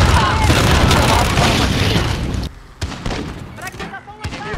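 A thrown grenade detonating in Call of Duty: Modern Warfare, a loud booming blast with rumbling debris that cuts off sharply, followed by scattered gunfire and in-game radio voices.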